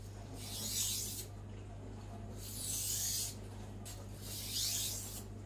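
Sharpening a Zwilling Five Star compact chef knife, three rhythmic rasping strokes of the blade across a sharpening surface, close and quiet over a low steady hum.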